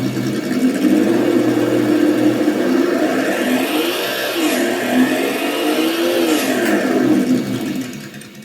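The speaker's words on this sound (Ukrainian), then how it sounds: "стільки, скільки ми будемо давати газу, буде і так змінюватися звук роботи мотору" Simulated engine sound from a Sense Innovations ESS Dual+ RC sound module, rising and falling in pitch as the throttle is worked, a steady whirring motor tone swelling in several revving surges with no talk.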